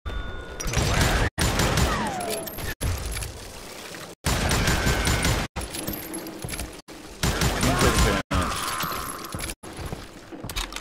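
Shotgun blasts and dense gunfire in the Western video game Call of Juarez: Gunslinger, a loud, continuous barrage broken by brief abrupt cuts, with ringing, clattering effects over it.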